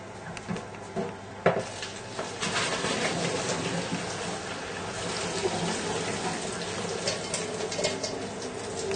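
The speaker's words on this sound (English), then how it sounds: "drain the pasta" Cooked pasta being drained, water pouring and splashing steadily and fairly loudly for the whole stretch, with a few clinks near the start.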